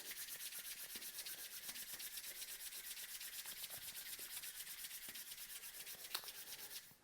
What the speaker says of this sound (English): we're going to rub the palms together like this